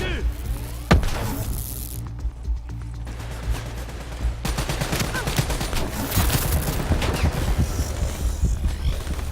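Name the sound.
gunfire from the video game Call of Duty Black Ops III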